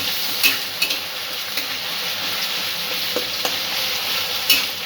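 Frying in a pan while making a Bengali malai egg curry with coconut milk: a steady, loud hiss of sizzling oil with occasional clicks and scrapes of a spatula against the pan, close by.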